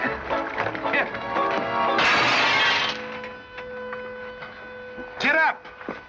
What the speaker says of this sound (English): You busted Lily's looking glass.